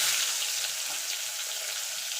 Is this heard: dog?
no